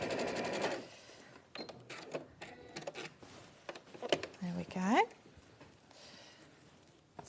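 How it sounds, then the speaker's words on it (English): A sewing machine runs in short bursts, stitching a seam allowance to a pocket bag, with a person talking in between and over the mechanical whirring. "I'm just stitching now that seam allowance to the pocket bag."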